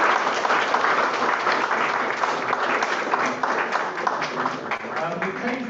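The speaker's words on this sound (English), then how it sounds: "Can we give both candidates a round of applause?" A neighborhood council meeting audience applauds two candidates, a full, steady wash of many clapping hands lasting several seconds, fairly loud and close, with faint voices underneath.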